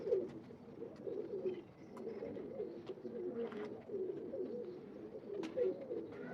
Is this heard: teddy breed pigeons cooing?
yes